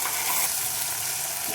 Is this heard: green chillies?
yes